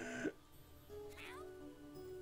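A cat meows in the video game YIIK as it is thrown, one short meow at the start and a rising, whining cry about a second later, faint over a quiet background hum.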